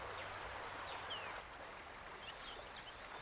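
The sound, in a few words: stream of water flowing in Lake Manyara National Park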